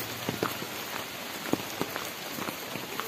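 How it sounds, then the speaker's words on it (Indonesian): Steady rain pours down in the village of Kampung Batu Saheng on an afternoon, a dense, even hiss with scattered louder drops splashing close by, and no voices. "Dari tadi hujan terus."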